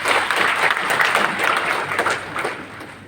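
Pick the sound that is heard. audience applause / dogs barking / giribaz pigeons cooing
audience applause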